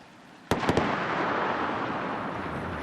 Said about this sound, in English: Twin sonic booms.